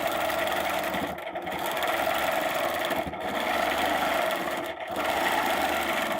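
Sewing machine stitching quilting arcs on a design template, a steady close mechanical hum running continuously with three brief pauses between sewing runs, no talk.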